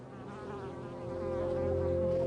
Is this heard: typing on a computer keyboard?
no